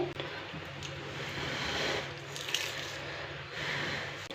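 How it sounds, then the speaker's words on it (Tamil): Roasted peanuts are rubbed between two hands to loosen their skins, giving a soft, continuous dry rustling and crackling, faint and close, with a few small ticks. "இப்போ இதை நல்லா அந்த ரெண்டு கையில் இப்படி தேய்ச்சி"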